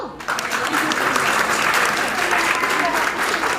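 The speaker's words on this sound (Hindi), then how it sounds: "भाई ताली तो बजा दो।" An audience at a women's awareness gathering claps continuously and loudly, a dense steady wash of applause from a crowd close by.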